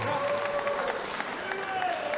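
A crowd gives a round of applause for both boxers after a six-round bout at a live boxing show in Sheffield: continuous, moderate clapping filling the hall, with a few faint voices in the background.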